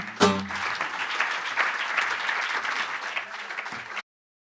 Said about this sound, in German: Einen kräftigen Applaus für Sandro Svoboda.